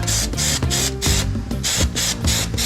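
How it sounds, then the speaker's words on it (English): A spray gun or aerosol applies glue to the back of foam padding for a VW Beetle convertible headliner, coming in loud, close hissing bursts of roughly equal length with short pauses between them. "we gotta spray the back of the foam"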